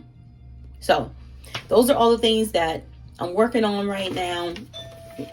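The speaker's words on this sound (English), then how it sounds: "so excuse the doorbell ring." A person talks steadily, then a short doorbell chime rings as a steady electronic tone near the end, close and fairly clear behind the fading speech.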